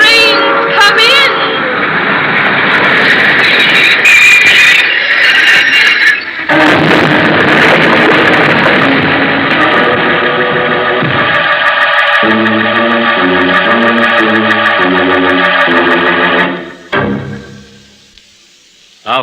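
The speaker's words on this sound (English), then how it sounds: "The train's come in." A train pulling into a station as a sound effect in a 1951 radio drama: a loud, continuous roar with rhythmic chugging and a squealing whistle, building and then cutting off near the end.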